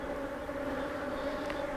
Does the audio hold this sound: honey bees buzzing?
yes